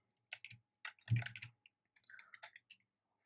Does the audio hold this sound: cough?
no